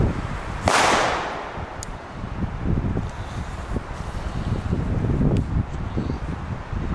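A single very loud firework bang from Belgium's loudest legal firecracker cracks sharply in a forest, followed by rustling and wind noise outdoors with faint later pops.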